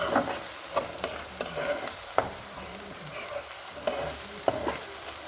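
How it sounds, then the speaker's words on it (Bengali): Spice masala with ground coriander being stir-fried in a pan for a tomato fish curry, with a steady low sizzle broken by several sharp scraping clicks of the spatula, close and moderately loud, no talk. "দিয়ে আমরা মশলাটা বন্ধুরা ভালো করে কষিয়ে নেব।"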